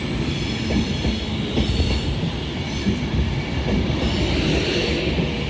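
A Pendolino train passes through Carlisle station on the West Coast Main Line, a loud, steady rumble of wheels and carriages with faint wheel squeal, close by and continuous with no talk.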